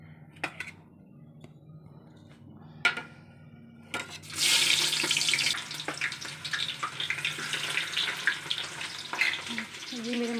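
Chopped onions hit a hot pan for chole in a home kitchen, setting off a loud, steady sizzling hiss that starts suddenly partway through after a few light clinks and carries on to the end.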